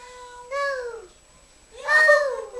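A voice makes two drawn-out meows, mimicking a cat, with a short pause between them.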